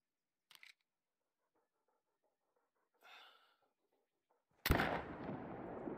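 A single loud .308 rifle shot fired at a troll yak on a mountain hunt in theHunter: Call of the Wild, booming close with a long rumbling tail, preceded by a few faint clicks and breaths.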